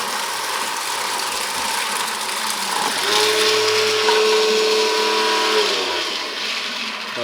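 A homemade high-pressure 12/24V DC water pump driven by a 775 motor, with a 3D-printed housing, whines steadily for about three seconds in the middle over constant background noise.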